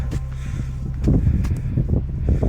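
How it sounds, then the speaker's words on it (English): Strong gusting wind buffets the microphone on an exposed climbing trail in Saxon Switzerland, Germany, a steady low roar that swells louder about halfway through and keeps rumbling to the end, with no speech. "It's so windy as well"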